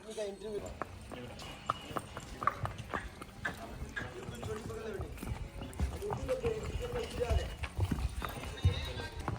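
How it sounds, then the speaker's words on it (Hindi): A mare's hooves clip-clop on a horse and cattle farm, a moderately close, steady trotting beat heard under ongoing conversation between people. "आगे एक घोड़ी आई है अभी"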